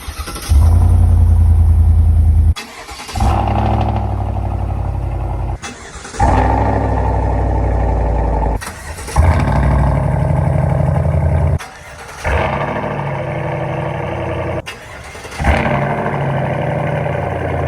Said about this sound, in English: I've put together all the cold starts for you to hear back to back